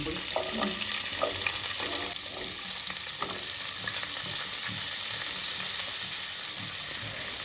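Cauliflower, carrot, peas and potato fry in oil in a kadai previously used for paneer, producing a constant sizzle broken by repeated scraping stirs of a spatula, close and steady with no talking.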